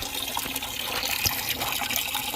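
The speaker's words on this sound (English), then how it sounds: "I'm already draining the coolant" Engine coolant drains out of a 6.7 Powerstroke diesel as a constant close rush of pouring liquid, with a brief splashy burst partway through.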